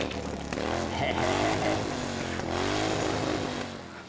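A Harley-Davidson motorcycle engine revs twice in swelling bursts, a rumbling, throaty roar that rises and falls at moderate distance with no talk over it.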